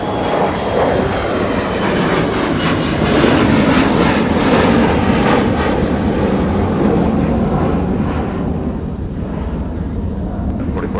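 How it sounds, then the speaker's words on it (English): An Embraer E175 jet departs off the south parallel runway at MSP on a winter day, its engine roar loud and sustained, then slowly easing as the aircraft climbs away. "Another Embraer E175."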